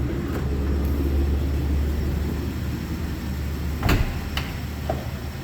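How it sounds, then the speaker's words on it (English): A power sliding door on a 2006 Nissan Elgrand minivan runs under a steady low rumble, with a couple of brief clunks near the end as it moves and latches. "These are all power door, 1 touch."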